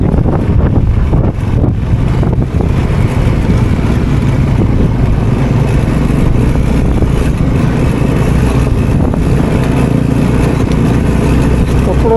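An off-road motorcycle ridden on a route from Lobo to San Juan, Batangas: a steady engine drone under heavy, constant wind buffeting on the microphone, loud and unbroken throughout.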